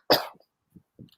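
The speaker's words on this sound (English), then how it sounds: "You've only got a cough" A single harsh cough bursts out close to the microphone, followed by a couple of faint short throat sounds, then silence before the next noise begins.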